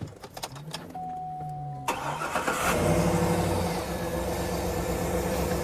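A large LPG-powered SUV with about 175,000 km cranks briefly and fires up, then settles into a steady, close engine idle after a quiet opening with faint noises.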